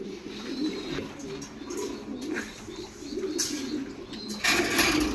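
A breeding pair of pigeons cooing close by, repeated low throaty coos rolling in overlapping phrases, with a few brief rustles and a louder flutter near the end.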